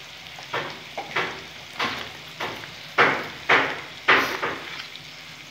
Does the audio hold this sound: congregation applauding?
no